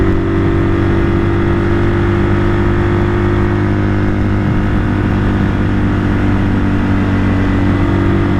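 A 1978 Kawasaki KL 250 motorcycle engine runs steadily while riding after a rebuild, a loud, continuous close-up drone with strong low harmonics and wind rush, holding near-constant throttle throughout.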